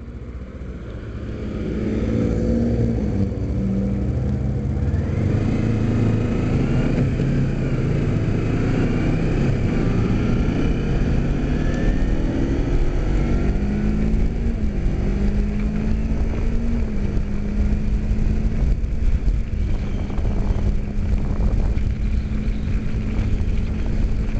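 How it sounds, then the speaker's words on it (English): A Honda CBR 600RR ABS sport motorcycle is ridden on the road, a loud continuous engine drone with rising and falling tones and steady wind rush heard from the rider's position, with no talking. "I'll check out the review of this bike that I'm riding right now."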